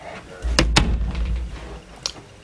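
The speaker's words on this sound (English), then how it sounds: "I'm gonna shut the door." A door is pushed shut with a few close, sharp knocks and a low thud, followed a moment later by one lighter click, against quiet room noise.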